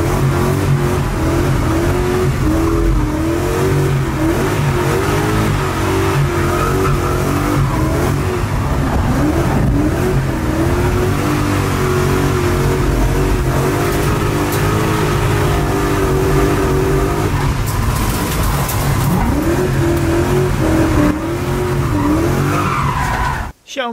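A BMW E34 with a 4-litre engine revs hard while drifting, its loud continuous engine roar rising and falling with tire squeal throughout, close and dominant, with voices faintly underneath.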